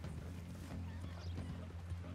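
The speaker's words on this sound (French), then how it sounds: "mon cheval refuse de sauter la cascade" Horse hooves clop in the Red Dead Redemption 2 video game, a faint irregular patter beneath a constant low drone, with no clear whinny standing out.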